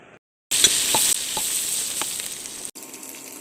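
Green chilies and mint frying in a pot with cashews for pulav, a loud, crackling sizzle that bursts in abruptly after a moment of silence, with light stirring taps, then cuts out near the end.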